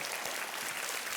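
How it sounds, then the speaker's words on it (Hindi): A studio audience on a TV quiz show claps in a brief, dense, steady burst of applause. "एक बार जोरदार तालियां बज जाए करण जौहर के लिए।"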